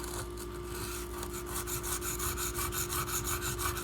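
A knife blade is drawn along a Razor Edge System sharpening stone with a clamp, a close, rhythmic rasping scrape repeating in quick even strokes that grow slightly louder.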